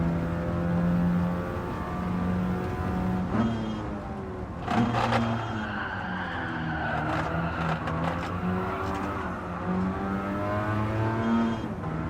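Mazda RX-7 engine in a racing video game on a track, a sustained rising and falling rev with gear shifts and brief squeals, steady and continuous without talk.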